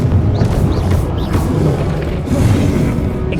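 Confringo blasting spell in Hogwarts Legacy, a loud rumbling explosion with sustained crashing, booming debris noise and brief whooshes, dense and close throughout.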